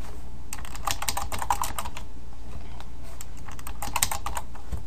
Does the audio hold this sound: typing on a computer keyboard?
yes